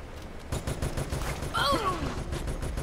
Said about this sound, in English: And I got another heavy machine gun.